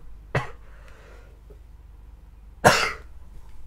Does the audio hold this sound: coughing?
yes